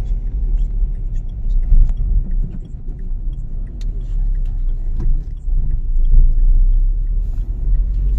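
A Dacia Sandero Stepway with the 1.5 dCi diesel engine drives along, producing a steady low cabin rumble and a quiet, even engine hum with small thumps from the road.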